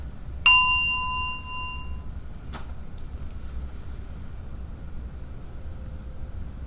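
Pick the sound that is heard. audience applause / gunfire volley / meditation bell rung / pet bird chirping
meditation bell rung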